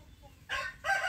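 A young bantam rooster crows in two short bursts, the second louder and following a brief gap, close by and with no voices.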